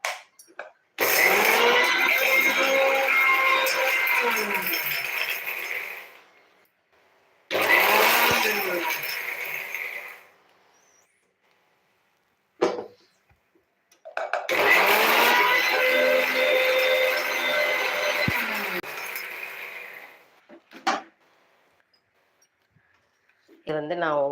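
A mixer grinder pulverizes roasted curry leaves into powder in a warm jar, loud whirring bursts that start and stop several times with short silent gaps and a few clicks between runs.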